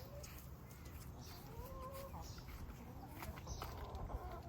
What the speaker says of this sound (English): This is our chickens.